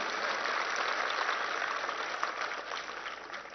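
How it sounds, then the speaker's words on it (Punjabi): A crowd at a political speech claps in a steady, dense wash of applause, somewhat distant and moderately loud, sustained throughout without pause. "ਤਾੜੀਆਂ ਮਾਰ ਕੇ ਥੋੜਾ ਹੌਸਲਾ ਵਧਾ ਦੇ"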